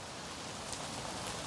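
Steady rain falling through tropical forest on the Nicobar Islands, a soft continuous hiss of drops on leaves with no pauses, moderately quiet and even throughout.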